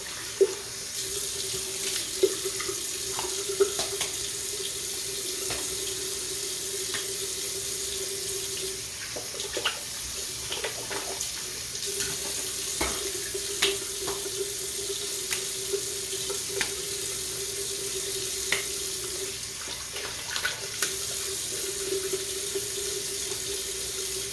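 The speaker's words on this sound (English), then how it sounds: "or warm tap water, and I'll go ahead and splash it into my face to get most of the soap off." Warm water runs steadily from a bathroom sink tap while hands splash it onto a face, with intermittent splashes and drips over the continuous flow and no talking.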